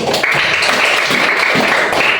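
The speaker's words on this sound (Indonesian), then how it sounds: "kita kasih tepuk tangan dulu untuk kelompok 1" A classroom group applauds their peers in group 1, a dense, steady wash of clapping from many hands that holds through the whole stretch without talk.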